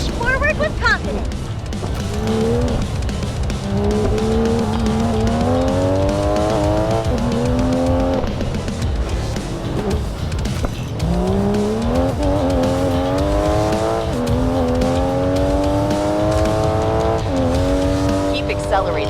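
Racing Master game car revving hard through a drift, engine pitch sweeping upward repeatedly in long rising runs, loud and continuous with tire noise underneath.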